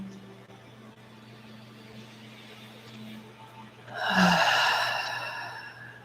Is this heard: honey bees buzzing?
no